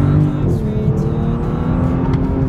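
A Bentley pulling hard under acceleration on the highway, its engine a steady low drone with road and wind roar holding level and loud throughout.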